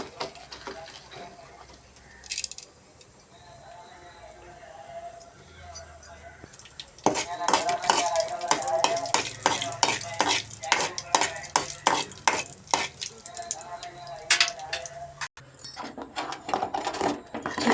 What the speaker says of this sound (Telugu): చట్నీ తాలింపు వేసేసుకుందాం.